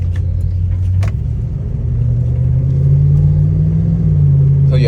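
A 1994 Jeep Grand Cherokee with a 5.2 Magnum V8 driving along, a loud steady engine drone and road rumble close by with slight pitch shifts, a faint voice briefly underneath.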